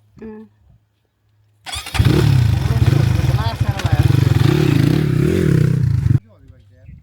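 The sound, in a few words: motorcycle engine, bike tipped over during wheelie attempt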